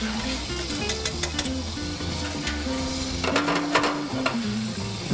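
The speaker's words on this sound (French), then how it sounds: "Mélangez le beurre et le sucre." Butter and sugar stir in a hot pan for caramelizing peaches, giving a steady sizzle with scraping strokes and occasional light clinks, close up and continuous over background music.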